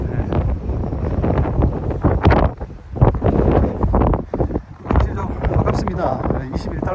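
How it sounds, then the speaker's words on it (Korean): River wind blows across the Alexandra Bridge toward Ottawa in summer, buffeting the microphone in rough, gusty rumbles while someone talks over it close by. "여기는 현재 지금 강바람이 불어서 어, 나름대로 시원합니다."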